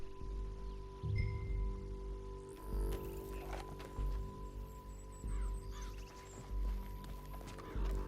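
Horse hooves clip-clop at a steady trot in the Red Dead Redemption 2 western video game, riding through a canyon near Beecher's Hope. The thudding steps are soft and rhythmic under a constant musical drone and faint bird calls.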